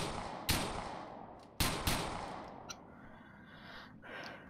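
A few sharp gunshots from the video game GTA IV crack out, two close together then another, each trailing into a fading tail, with a faint thump later and no talk.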